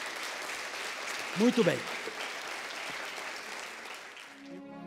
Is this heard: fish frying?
no